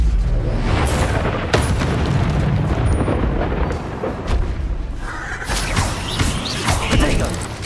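Confringo explosion spell going off in the video game Hogwarts Legacy, a dense, continuous roar of booming blasts and crackling debris that fills the clip at steady loudness, with other game sounds mixed in.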